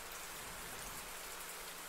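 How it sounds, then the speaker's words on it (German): Steady rain falls at night, heard as a soft, continuous hiss of drops with no other sounds over it. "Der Regen fällt immer noch."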